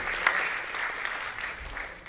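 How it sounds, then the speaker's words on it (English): An audience at a speaking event claps together briefly, a soft, diffuse burst of applause that holds steady and then thins out toward the end. "Can you give yourself a big applause?"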